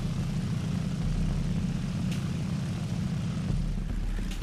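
A damaged engine on a Breda Ba 65 fighter in War Thunder gives off a steady, low, throbbing drone, continuous and close, with faint clicks on top.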